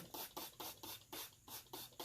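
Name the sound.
spray bottle squirting water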